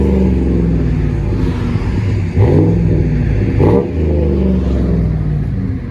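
Chevy Silverado 5.3L V8 with a Flowmaster exhaust revving up several times, loud and close, its deep rumble climbing in pitch and then dropping back to idle between blips.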